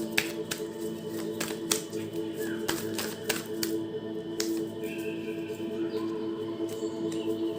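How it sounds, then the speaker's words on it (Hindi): Tarot cards shuffled by hand during a reading, a string of crisp flicks and snaps that comes irregularly, close and fairly quiet, over a faint steady hum in the room. "यहाँ से कुछ कार्ड्स मैं शफल कर लेती हूँ।"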